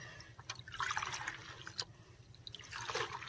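Bunches of coriander leaves are rinsed by hand in water, giving a soft continuous splashing and dripping with intermittent sloshes, fairly quiet and close, with no talking.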